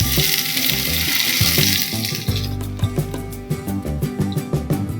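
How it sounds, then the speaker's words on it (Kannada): Heated oil being poured into ground masala for jowar (sorghum) vade, a hiss-like stream for the first couple of seconds that gives way to a run of quick soft ticks and spatters, close and fairly loud, with no talking. "2 ಟೇಬಲ್ ಸ್ಪೂನ್ ಎಣ್ಣೆನ ಕಾಯಿಸ್ಕೊಂಡಿದ್ದೀನಿ, ಇದಕ್ಕೆ ಹಾಕ್ಕೊಳ್ತಾ ಇದ್ದೀನಿ"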